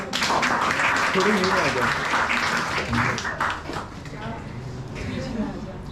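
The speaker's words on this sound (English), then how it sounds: "big round of applause" Audience applause at a film festival event, a dense crowd of clapping hands mixed with cheering and voices, loud and sustained before easing slightly near the end.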